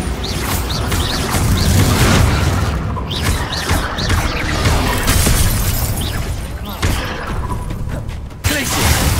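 Chaotic Bombarda spell combat in the Hogwarts Legacy video game, with a continuous loud barrage of crashing blasts, shattering impacts and booms layered densely throughout, plus occasional short whooshing effects.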